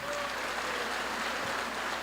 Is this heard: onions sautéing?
no